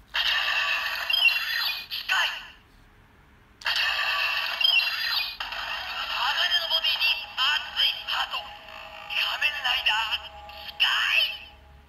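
Kamen Rider Zi-O DX Kikai Miride Watch toy plays its electronic sound effects, bright tinny voice and jingle bursts in several bursts, loud and close.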